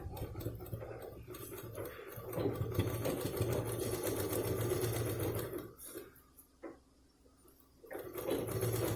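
A sewing machine stitching a cloth purse with sponge underneath and lining fabric on top, its steady mechanical whir running for several seconds, pausing briefly near the end, then starting again.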